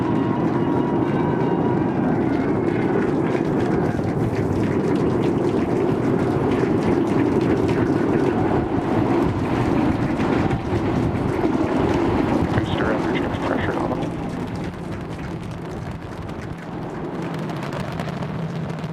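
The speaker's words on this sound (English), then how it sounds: "We are seeing 33 out of 33 Raptor engines ignited." A SpaceX Starship launch with all 33 Raptor engines firing gives a loud, continuous broadband roar that crackles and rumbles steadily, easing slightly toward the end.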